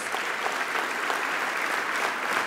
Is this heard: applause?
yes